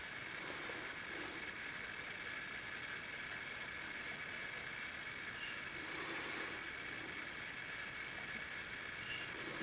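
A model railway train runs steadily through a home layout at night, a continuous soft rolling hiss with faint squeal-like tones, quiet and even throughout with no talking.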